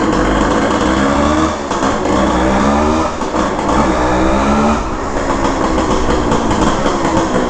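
A 1974 Suzuki TS185 motorcycle pulls hard through rising revs, its two-stroke engine climbing in pitch, dropping between shifts and winding up again, loud and close throughout.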